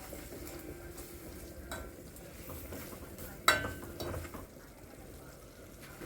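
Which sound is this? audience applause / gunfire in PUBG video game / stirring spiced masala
stirring spiced masala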